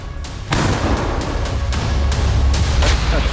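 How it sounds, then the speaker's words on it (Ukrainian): A single heavy, booming artillery gun shot erupts nearby and is followed by a rumbling, ragged echo that rolls on for a few seconds. "Постріл!"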